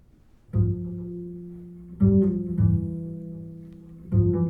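Deep double bass notes from a played music recording on a hi-fi system with a BOP Quantum Ground V2 upgrade, a few sustained bowed or plucked tones re-attacking every couple of seconds, full and resonant, no talk.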